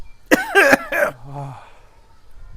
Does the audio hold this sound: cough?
yes